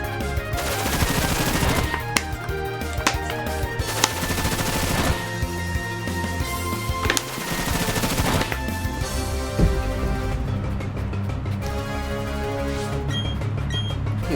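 The Bullet Seed attack from Pokemon Shining Pearl plays as a dense, loud run of rapid popping shots, like machine-gun fire, over a rhythmic game music track, with no talking.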